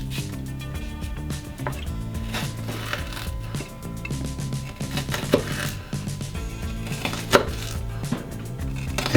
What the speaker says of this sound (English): I'm butterflying the shallot